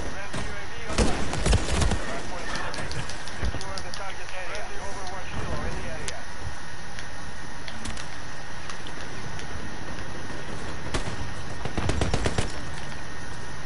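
Pistol fire in Modern Warfare III rings out in sharp cracks, a pair of close shots early on and another burst near the end, over steady in-game background noise and scattered clatter.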